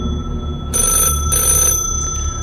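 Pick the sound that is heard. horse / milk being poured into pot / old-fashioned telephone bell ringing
old-fashioned telephone bell ringing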